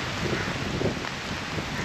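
Heavy monsoon rain pours down steadily on a road in Karkatta, a dense, continuous hiss of drops drumming on surfaces with no voices.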